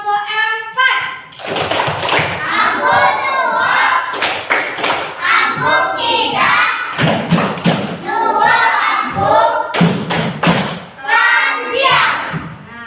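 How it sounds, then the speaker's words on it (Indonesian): Children in a classroom clap together in several bursts of brisk applause for a student group, loud and close, with a teacher's voice speaking between the rounds. "Maka kita juga memberikan tepuk tangan kepada kelompok 4."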